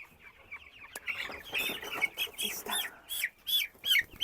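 Several broiler chicks cluck and peep close by in quick, uneven bursts, with soft background noise and no clear talk.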